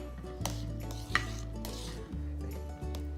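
Milk stirred in a pot as acid is added to curdle it for paneer: soft, quiet scraping and swishing over a steady low hum, with a couple of faint clinks.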